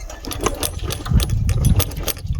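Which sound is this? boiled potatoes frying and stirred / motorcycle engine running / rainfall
motorcycle engine running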